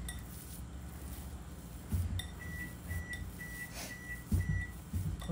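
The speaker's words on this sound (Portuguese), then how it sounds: "Porque o forno tá aquecendo, ele tá ali apitando." Repeated short high electronic beeps from an oven while it preheats, evenly spaced, over faint kitchen clatter of dishes and utensils.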